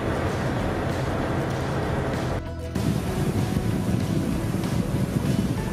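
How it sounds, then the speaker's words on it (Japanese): The Sekizen ferry gets under way at sea, with a steady, loud rumble of engine and water churning under heavy wind buffeting the microphone, one brief gap in the middle. "朝日の方に向かって船が走り始めます。"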